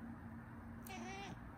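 A cat gives a single short meow in response, faint and close by, against a low steady background hum.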